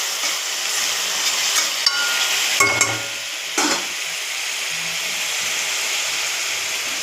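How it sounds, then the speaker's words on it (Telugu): Onion paste with cumin seeds frying in hot oil for a fish curry, giving a steady, close sizzle and hiss, with a few clinks and scraping stirs of a utensil against the pan partway through. "ఆయిల్ వేసి జీలకర్ర వేయాలి. ఇది వేగాక ఉల్లిపాయ పేస్ట్ వేసి కొంచెం ఫ్రై చేసుకోవాలి."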